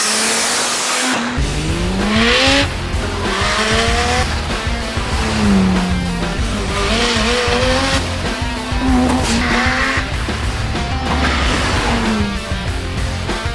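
A Mazda RX-7 with a half-tuned rotary engine making about 250 at the wheels drives hard, loud and close, its engine note rising and falling steadily through repeated gear changes with a buzzing rotary tone and no talking.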